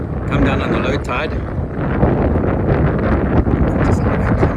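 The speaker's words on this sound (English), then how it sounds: "with this gusting south wind blowing" Strong gusting south wind at the St Lucia estuary mouth buffets the microphone in a constant rumbling roar, with a voice faintly audible beneath it.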